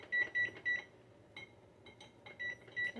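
Keypad beeps of a timer being set for 12 minutes on a kitchen appliance, a run of short bright electronic tones in uneven bursts with quiet pauses between, fairly close.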